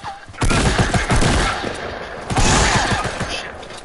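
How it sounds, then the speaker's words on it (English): Dense, loud bursts of gunfire from the video game Fortnite crackle in rapid overlapping volleys that keep going without a break. "Just look, he's shooting me."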